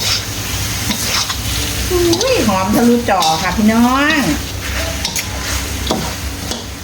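Spicy Thai-style catfish pad cha stir-frying in a pan, a steady close sizzle with scraping stirs, while someone talks excitedly over it.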